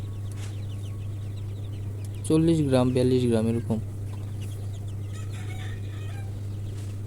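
Young broiler chicks cluck and peep on a poultry farm, with one louder bird clucking briefly nearby over a steady low hum while someone talks.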